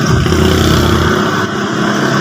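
Mitsubishi Mirage G4 engine running just after starting: a steady, loud mid-pitched idle with a continuous hum throughout, close by, with no voices.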